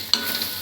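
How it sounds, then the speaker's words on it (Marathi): Ingredients are sautéed in a pan, with a steady soft sizzle and a couple of brief stirring scrapes. The sound is short and close, with no talk. "हे बघा चांगलं परतून अगदी छान घ्यायचं"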